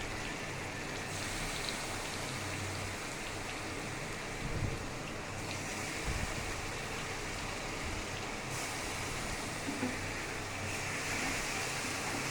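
Spice paste hits hot oil for chilli chicken, giving a dense, steady crackling hiss that fills the whole clip at moderate loudness, with a few louder pops and no talk.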